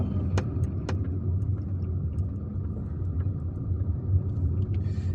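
Car driving through city streets in Algiers, a steady low engine and road rumble heard from inside, with a couple of faint clicks and no talking.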